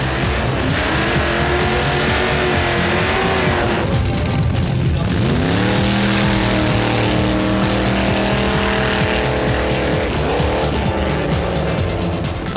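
Race cars at an airfield race day in Hohenems, loud engines revving and shifting with squealing, skidding tires, close and continuous, with rising and falling engine pitch.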